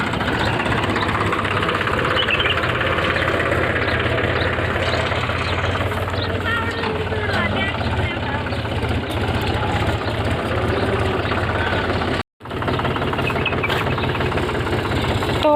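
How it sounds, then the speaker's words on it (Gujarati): A tractor engine runs steadily at idle on a farm, a continuous low mechanical rumble with a knocking throb, close and loud, with one brief dropout near the end. "તો મિત્રો ટ્રેક્ટર ચાલુ કરી નાખ્યું"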